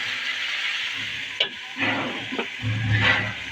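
Vegetables fry with spices in a pan for a Bengali fish dish, giving a moderate hiss. A few stirring knocks and bursts of louder sizzle come in the second half.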